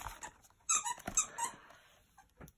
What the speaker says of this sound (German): Bella, hör doch mal auf zu quietschen jetzt.